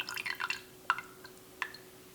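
Water drips into a glass of absinthe, a few light, faint plinks and trickles, irregularly spaced in a quiet room.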